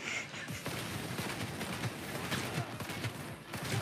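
Pistol gunfire in the video game Cyberpunk 2077 crackles through a dense, busy game soundscape, with quick repeated shots under faint talk.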